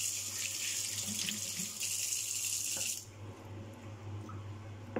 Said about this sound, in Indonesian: Kita usahakan cuci tangan dulu supaya bersih.